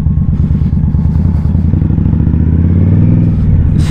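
A motorcycle rides along a rough street, its engine a loud, steady, close rumble with rattling and clatter from the bumpy surface throughout.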